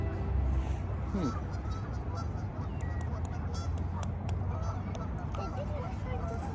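Goose-like honks from waterfowl on a nature trail, several calls scattered through steady outdoor background noise, with faint voices nearby.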